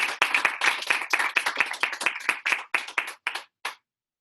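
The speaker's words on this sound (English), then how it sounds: "Please give a round of applause to your West Van Student of the Year finalists" An audience at an academy's annual gala applauds Student of the Year finalists with close, brisk hand claps that thin out into a few scattered, separate claps before stopping.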